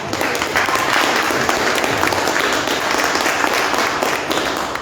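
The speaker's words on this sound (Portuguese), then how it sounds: "Você pode dar um aplauso ao Senhor Jesus?" A church congregation gives a sustained round of applause during a sermon on generosity, a dense, even wash of clapping from many hands that holds at a steady level throughout.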